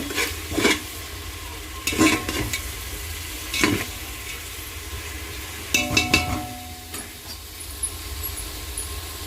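Oil sizzles softly in a pan as chili powder fries while a spoon scrapes and stirs in several separate strokes, with occasional metallic clinks.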